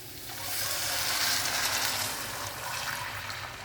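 Water poured into a hot pan of rice makes a loud, close sizzling hiss that swells and then holds steady for several seconds, with no talking over it.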